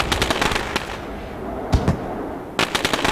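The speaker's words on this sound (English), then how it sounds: "Take you up to the blimp cam to capture the fireworks that definitely complement that finish here tonight at USA." Fireworks burst over USA International Speedway after a Street Stocks race finish: rapid crackling pops in dense clusters, with sharp louder reports and brief lulls between volleys, heard from a distance.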